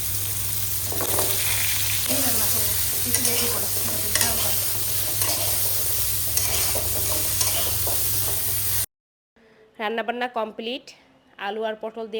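Curry fries in a pan on a stove and is stirred, a steady close sizzle with scraping strokes and a low hum beneath, while someone speaks over it; the sizzle cuts off near the end and talk continues alone.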